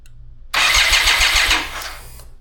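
A BMW K75RT motorcycle engine, revived after sitting nine years with idle problems, cranks and fires up, a loud close starter whir catching into a rough rhythmic run before easing down.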